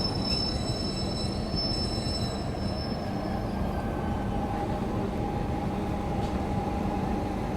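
At night, the Yesvantpur-Gorakhpur Express rolls through Yelahanka Junction with a steady loud rumble of wheels on rails and thin high squeals over it, heard continuously from on board.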